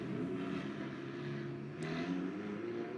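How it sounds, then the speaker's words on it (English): Deep, steady engine rumble with a low droning hum throughout, as several GT race car engines start up at a Barcelona circuit qualifying session, without any voices. "can hear the engines being fired up"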